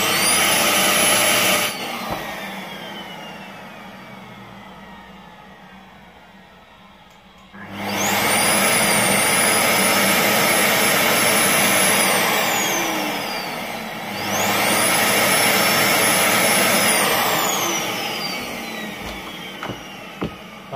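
A Philips PowerPro Active FC8632 vacuum cleaner motor with a burnt commutator whines loudly, cuts out and spins down, then restarts twice, each time rising to a high pitched whir before dropping away again.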